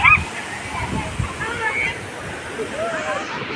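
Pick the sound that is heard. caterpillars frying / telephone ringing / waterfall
waterfall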